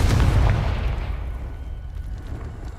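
Confringo spell explosion in Hogwarts Legacy: a heavy, booming blast right at the start, with a long rumbling decay that fades over the next few seconds.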